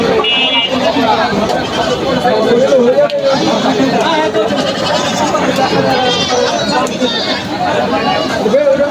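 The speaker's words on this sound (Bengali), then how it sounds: "ছাগল হাটে এখানে আসলে বিভিন্ন ধরনের ফেন্সি ছাগল" A busy crowd chatters at a goat market in Gazipur, Bangladesh, while several goats bleat now and then, wavering cries rising over the steady babble.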